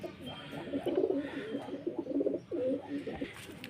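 Several pigeons coo in soft, overlapping rolling phrases nearby inside a pigeon coop, a continuous low murmuring with short pauses between bursts.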